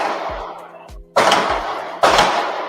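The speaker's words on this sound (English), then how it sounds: "Suddenly, gunshots." Gunshots heard from a live podcast studio: two loud, sharp reports about a second apart, each ringing out and decaying slowly, with soft low thumps before them.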